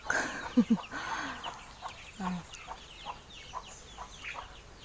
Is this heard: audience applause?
no